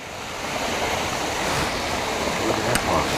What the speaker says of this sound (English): Ooh, there's a lot of water running out of there.